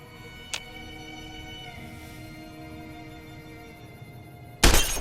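A sarsaparilla bottle shot in Fallout: New Vegas, with an early sharp crack, a lingering ringing tone, then a loud bright glass shatter at the very end.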